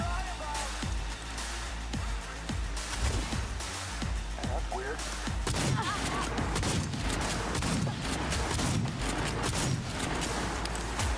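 Shotgun blasts in Cyberpunk 2077 during a firefight: repeated loud, booming shots over a dense, continuous wash of combat noise, with a voice talking through part of it.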